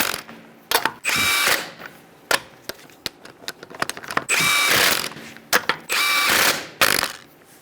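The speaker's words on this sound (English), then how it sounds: "Use a 21 millimeter socket. You're going to snug these down in a star-like pattern." Ratchet fitted with a 21 mm socket snugging the lug nuts on a 2010–2013 Kia Soul wheel, heard as several loud, close bursts of rapid clicking separated by short sharp knocks and pauses.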